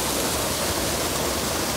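River water flows in a steady, broadband rush near a waterfall, loud and continuous throughout with no voices.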